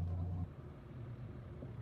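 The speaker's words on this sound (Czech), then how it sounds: "Ten motor je vážně slyšet nejenom když stojíte, ale i když jedete." A Toyota 4x4 engine idles with a low, steady rumble, a slightly louder hum at first settling into an even, quiet drone.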